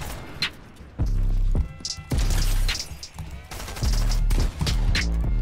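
Video game gunfire in a Fortnite-style zone wars match, a rapid series of loud close bursts and heavy impacts arriving in clusters over several seconds.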